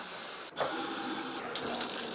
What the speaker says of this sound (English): It's something we do every day, run water.